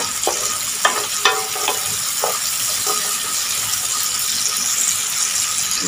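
Cassava peel fries in a pan while being stirred, with a loud, steady sizzle broken by a few distinct scraping and clicking strokes of the utensil near the start.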